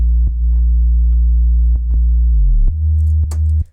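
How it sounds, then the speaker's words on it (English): A synthesizer bass note plays with mono legato glide, holding a steady buzzy tone and then sliding smoothly down in pitch to a lower note, with light clicks and a sharp cutoff at the end. "I'm going to mono legato the sound so it bends down and sounds really cool and bendy"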